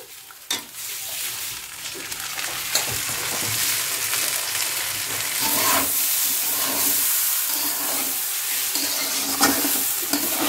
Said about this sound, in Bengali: হ্যাঁ, নাড়িয়ে চাড়িয়ে একটু এর মধ্যে ঘি দিয়ে দিচ্ছে।